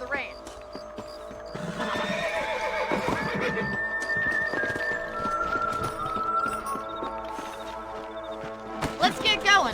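A horse in Red Dead Redemption gives a loud whinny, then hooves clip-clop and gallop steadily nearby, and another sharp neigh comes at the end.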